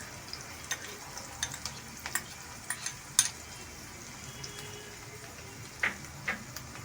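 Chopped onions and garlic fry in a pan under a low, steady sizzle while a utensil stirs them, scattering faint scrapes and sharp taps against the pan throughout.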